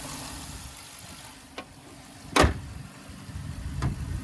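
The hood of a Dodge Charger pursuit car with a 5.7L HEMI slams shut in one solid thud near mid-clip. Lighter clicks come before and after it over a steady outdoor hum.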